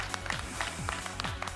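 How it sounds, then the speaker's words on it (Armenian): A studio audience at a televised talent-show workshop applauds in a steady, moderate patter of many hands, somewhat distant and fairly soft. "եկեք ծափարենք այս հայրենասեր քաղաքացիներ աղջկան"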